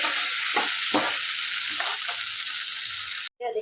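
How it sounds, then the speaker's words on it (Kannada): Curry leaves and tamarind frying in a pan for temple-style Karnataka puliyogare, a steady close hiss with a few soft stirring knocks, cut off by a short silence near the end. "ನೋಡಿ, ಫ್ರೈ ಆಗಬೇಕು, ಗೋಲ್ಡನ್ ಕಲರ್ ಆಗೋವರೆಗೂ ಇದ್ದು. ಅದಾದಮೇಲೆ ಕರಿಬೇವಿನ ಸೊಪ್ಪು ಹಾಕ್ಕೊಳ್ಳಿ."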